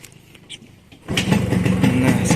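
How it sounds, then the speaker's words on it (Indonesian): An old Yamaha RX-S motorcycle is kick-started after a few quiet mechanical clicks, firing up on the first kick into a loud, close, steady two-stroke idle. "Nah sekali pancal langsung nyala, mantap"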